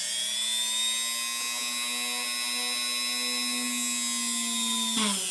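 A drill bores a hole through wood with a steady, sustained high-pitched whine that holds close and loud before cutting off abruptly near the end.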